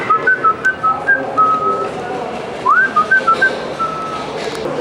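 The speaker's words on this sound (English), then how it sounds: "Sounded like your whistle was coming from the other way" A person whistles a series of short, bright notes in quick bursts, pausing, then a rising slide followed by more clipped notes, loud and close amid faint background murmur.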